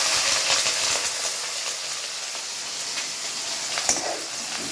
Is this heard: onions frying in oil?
yes